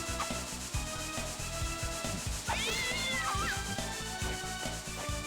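A cat thrown as an attack in Castlevania: Dawn of Sorrow lets out a rising, wavering meow midway, heard over steady, busy game music and rhythmic background effects.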